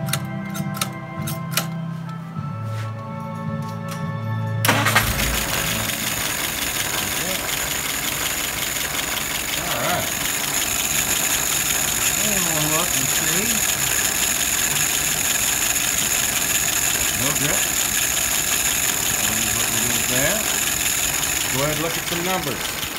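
An engine cranks and catches, then settles into a steady, rumbling idle at about 640 rpm with a faint ticking rhythm that runs on without a break.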